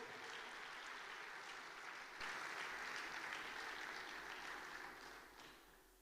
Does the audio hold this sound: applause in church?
yes